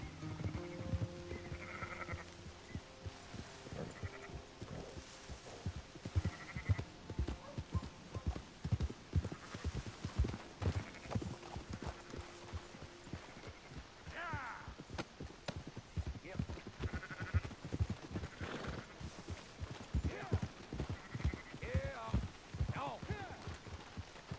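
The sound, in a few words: sheep bleating and horse hooves, video game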